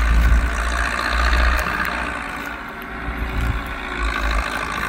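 Zetor 6245 tractor engine labouring while ploughing in extreme conditions on a slope with a Vogel & Noot HF L800 plough, a loud, low, continuous rumble that swells and dips under strain.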